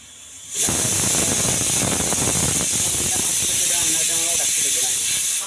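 A pressure cooker on a home kitchen stove lets out a sudden, loud, continuous hiss of escaping steam that holds steady for several seconds, close and dominant.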